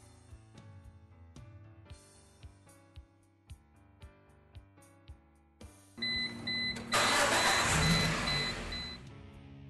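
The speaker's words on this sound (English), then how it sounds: "With the engine running" A car engine starts up and settles into a loud, steady idle, preceded by a run of regular ticking clicks, with an electronic chime beeping repeatedly while it runs; no speech.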